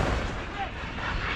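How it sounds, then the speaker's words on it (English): Tanks fire rounds on a battlefield in eastern Ukraine in the Donbass. A loud, continuous booming roar from the shots fills the whole moment. "Between them, the tanks fire almost 40 rounds."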